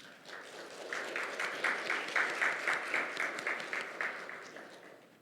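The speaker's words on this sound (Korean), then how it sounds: "큰 박수로 환영해 주시면 감사하겠습니다." Attendees at a 2022 Korean judicial policy research institute symposium applaud to welcome the opening speaker, a moderate, steady round of clapping from a seated audience in a hall, swelling and then tapering off.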